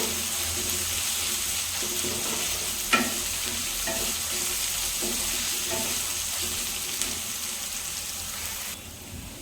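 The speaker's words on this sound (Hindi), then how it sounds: "आमे पियाज को अल्प समय टिके भाजी नबा, जोटा कि अल्प गोल्डन ब्राउन कलर" Onions browning in a pan for a cabbage curry, a steady close sizzle running throughout with a few soft clinks of stirring, no voices.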